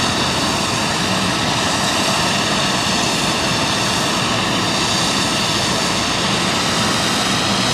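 A cargo aircraft on the freight apron at East Midlands Airport gives off a loud, constant engine roar and whine close by. The sound stays steady throughout and there is no break in it.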